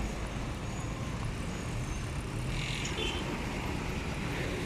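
Continuous hum of road traffic backed up at a checkpoint, with engines idling and vehicles rolling slowly nearby, a steady mid-level rumble without breaks.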